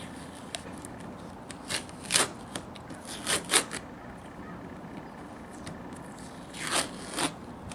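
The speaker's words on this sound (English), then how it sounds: "take my putty knife here, lift up this tape" A putty knife lifts tape off a Formica laminate surface, giving short crackling peels and light scraping ticks in scattered bursts, close and fairly quiet.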